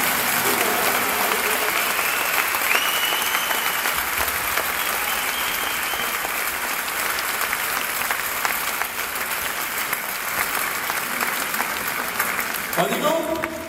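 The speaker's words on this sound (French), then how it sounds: "On peut applaudir encore une fois." An audience applauds after a song at a concert, dense sustained clapping filling the room for the whole stretch, loud and even with a slight fade near the end.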